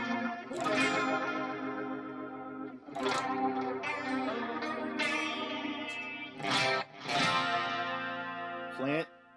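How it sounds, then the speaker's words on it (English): An electric guitar runs through a rotary effect on a Line 6 Helix, with strummed chords and picked notes swirling and wobbling under a shimmering modulated wash, played alone and fairly steady. "You can do that rotary."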